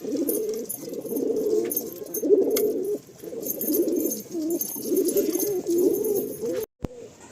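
Racing pigeons coo steadily in a loft, a soft, continuous burbling chorus from several birds close by, broken by a brief pause near the end.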